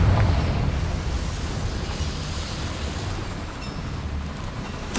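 Confringo blasting spell from the Hogwarts Legacy video game, heard as a continuous rumbling explosion wash over five seconds with a brief burst at the very end, no voices.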